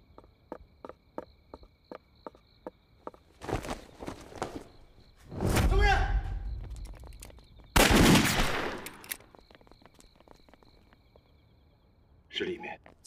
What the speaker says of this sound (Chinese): 是里面枪声